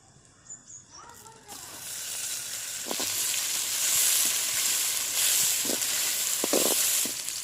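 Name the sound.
tomatoes added to frying onions, sizzling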